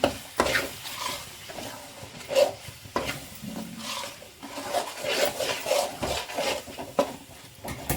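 Coriander powder being stirred into an egg curry masala in a pan: repeated scraping, rubbing strokes over a soft sizzle, close and irregular in rhythm, with no talking.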